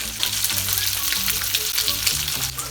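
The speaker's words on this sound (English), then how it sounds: "our sausage is just about done, so I'm going to take it out of the frying pan" Sausage sizzling and frying in a frying pan during a seafood boil cook, a steady close crackle with faint stirring, no talking.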